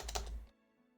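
Quick bursts of keystrokes as a password is typed on a computer keyboard, close and crisp for about half a second, then silence.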